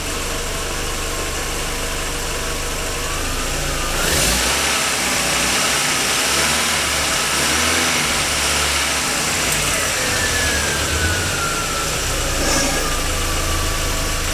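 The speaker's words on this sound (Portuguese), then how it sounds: "Agora vamos dar uma aceleradinha" A car engine idles steadily, then is revved several times with rising and falling whines over a constant mechanical hum, fairly loud and close, with no talking.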